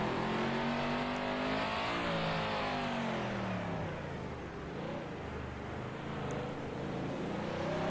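A 1967-style race car engine at Monaco in Assetto Corsa snarls loud and close, its pitch sweeping up and down through shifts and revs before settling into a steady drone.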